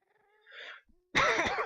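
A single short, harsh cough bursts out near the end, close and loud, preceded by faint breathy throat sounds and near silence.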